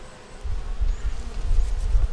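Honey bees buzzing at a hive, a steady close low hum swelling slightly, with no talking.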